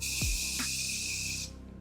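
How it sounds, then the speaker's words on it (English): A Morphe setting spray mists out in one steady, close hiss lasting about a second and a half, then cuts off, with a faint low thump near the start. "to top everything off, I'm going with this Morphe setting spray."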